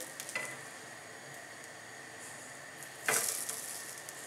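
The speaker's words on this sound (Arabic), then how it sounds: "عندي المقله سخونه غنحط فيها الحريشات على هذا الشكل" Semolina harcha patties are laid into a hot oiled pan and sizzle quietly and steadily. A brief, sharper crackle flares partway through as the dough meets the heat.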